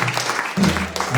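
A church congregation at a French-language worship service breaks into applause, a brief burst of clapping that swells partway through and carries on under the room's background sound.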